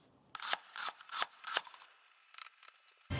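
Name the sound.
cutting seared steak for steak salad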